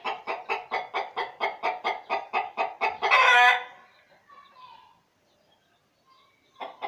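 A breeding rooster crows in a rapid series of loud, repeated bursts ending in a long harsh cry, followed by quiet and a few soft hen clucks.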